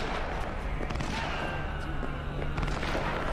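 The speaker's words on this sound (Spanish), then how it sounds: "Se están pegando tiros, tío," Scattered bursts of distant gunfire in the video game Cyberpunk 2077 crackle over a steady rumbling background, shots coming in irregular clusters.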